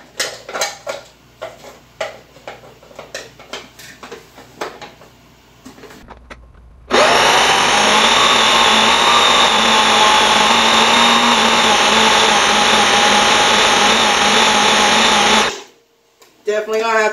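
A kitchen blender blitzes chickpeas for miso paste. After some clattering handling, the motor roars loudly and steadily for about eight seconds, then cuts out abruptly before a brief restart.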